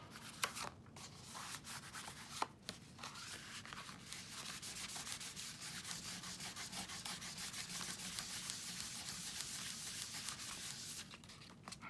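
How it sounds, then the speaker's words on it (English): Glue is rubbed off a shabby lace folio by hand, a soft continuous scratchy rubbing that holds steady and close with a few small taps near the start. "Rub all that glue off."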